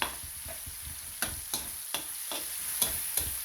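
Tomatoes are crushed and stirred in a frying pan, a soft steady sizzle broken by sharp, evenly spaced scraping knocks of a utensil against the pan, fairly quiet.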